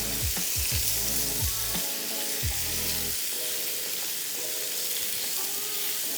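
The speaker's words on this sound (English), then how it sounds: "So just a quick sear on both sides just like this, okay." Paneer sears in a hot pan, giving a loud, steady broadband sizzle and crackle with faint clinks near the start, and no talk over it.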